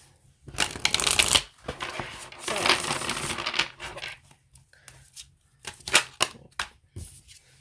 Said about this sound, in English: we saw in the cards I got during shuffling